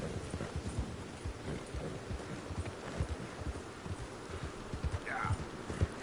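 Horse hooves in Red Dead Redemption II clop along in a quick, steady galloping rhythm, faint and continuous, with a brief higher sound near the end.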